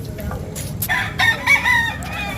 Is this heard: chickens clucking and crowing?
yes